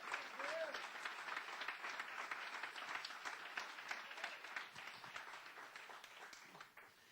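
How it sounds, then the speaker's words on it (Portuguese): A church congregation applauds loudly and continuously, a dense wash of many hands clapping together, with a voice briefly heard at the start. "aplauda bem forte ao nome do Senhor"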